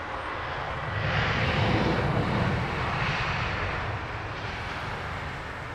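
A KLM Neo airliner passes over Heathrow Airport, producing a steady, broad jet roar that swells to a peak partway through and then slowly eases, with no talking.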